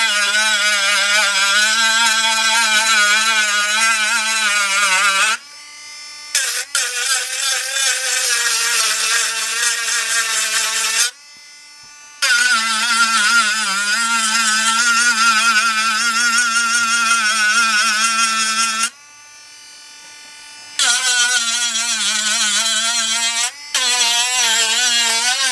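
A Dremel rotary tool grinds on a broken doll in long, high whining bursts, stopping and restarting several times with short quiet gaps, heard loud and close.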